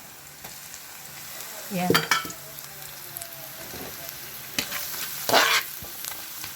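Garlic sautéing in a pan with bits of cabbage, a soft sizzle under stirring clatter with a few louder scrapes and a brief spoken word.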